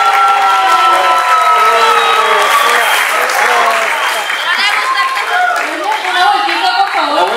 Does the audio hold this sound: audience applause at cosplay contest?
yes